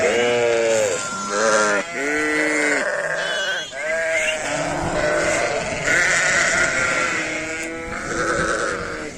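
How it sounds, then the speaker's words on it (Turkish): Several sheep bleat repeatedly, loud and close, their calls overlapping with one another over a quiet outdoor background as snow begins to fall. "hayvanlar da içeri girme saatleri yaklaştığı için ondan sürekli böyle meliyorlar"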